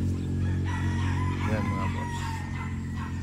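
A Boston and Gilmore cross gamefowl rooster, three-quarters Boston and one-quarter Gilmore, crows nearby in a drawn-out call while someone talks over a steady low hum.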